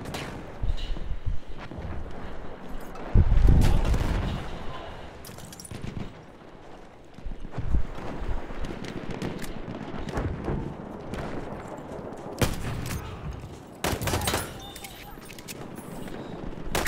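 Gunfire in the multiplayer video game Battlefield 1 on Xbox One, with scattered shots and heavier booms mixed with busy game noise and some voice chatter throughout.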